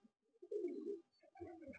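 A Malwai pigeon gives a couple of soft, close coos, a short low murmur followed by a second throaty phrase, faint against quiet surroundings.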